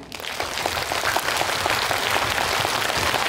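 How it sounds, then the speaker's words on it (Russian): Children at a New Year's tree party applaud together, a steady dense patter of many small hands that holds evenly throughout, close and fairly loud with no talk over it. "Похлопайте все зиме."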